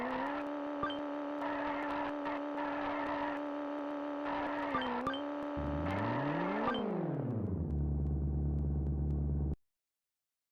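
F1 race cars in the SNES game Micro Machines 2: Turbo Tournament give off a steady synthesized engine whine with bursts of skidding, then a pitch-bending rev that drops and holds before cutting out abruptly.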